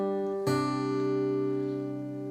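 A guitar pickup leading into the pre-chorus of a song: a soft note, then one clearly struck chord at about half a second that rings on and fades slowly, played alone with no talking.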